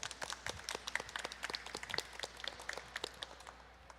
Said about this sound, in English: Can we please give them all a round of applause?